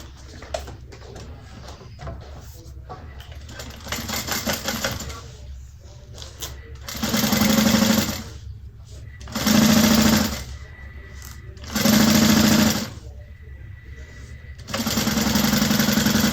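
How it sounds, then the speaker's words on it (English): A sewing machine stitches a zipper onto bag lining in four loud, fast-whirring bursts of a few seconds each, separated by quieter pauses, heard close up. "we're going to sew this on at 1/4 inch"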